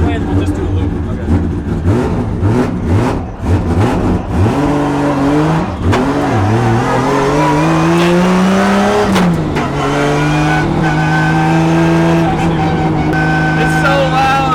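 A 1000-horsepower pro drift car roars loudly from inside the cabin, its engine revving and sweeping up and down through gear changes, with people talking over the constant drone.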